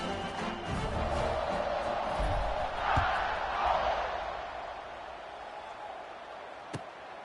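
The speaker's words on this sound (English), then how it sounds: "this crowd now ready to get behind them" A stadium crowd at an Alabama vs Texas college football game before kickoff gives off a broad, fairly loud roar that swells in the middle and then eases to a lower murmur, with a sharp thump near the end.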